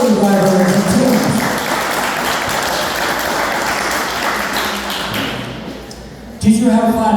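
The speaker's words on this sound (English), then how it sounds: "let's have a round of applause for our rally drivers and teams" Crowd applause for rally drivers and their teams at a heritage mill rally event, a sustained dense clatter of clapping filling several seconds before fading, then voices resume.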